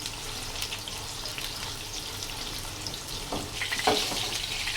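Beef koftas cooking in a pan over a medium flame, a soft steady sizzle with occasional light scrapes and clinks near the end, fairly quiet and without talk.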